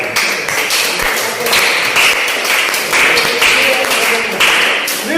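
Crowd applause for a best scholar awardee called up to the dais at a match finals ceremony, steady dense clapping throughout with voices mixed in.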